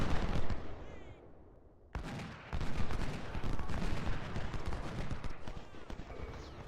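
Battlefield gunfire and artillery in Ultimate General: Civil War, a dense continuous roar of musketry and cannon blasts with a sharp louder burst partway through, sustained at moderate level throughout.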